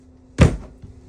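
A drawer in a travel trailer kitchen slides and shuts with one solid thunk, followed by a softer knock a moment later, close and clear in a quiet room.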